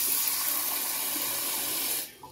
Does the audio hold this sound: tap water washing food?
yes